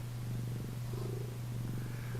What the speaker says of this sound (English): Are we purring?